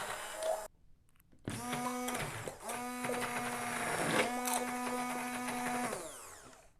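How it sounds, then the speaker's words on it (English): A liquid hand blender whirs in bursts while pureeing vegetables for a creamy vegan papaya soup, starting after a brief pause, its motor pitch shifting as it works through the mixture, close and clear. "So I'm going to use a hand blender here, a liquid hand blender"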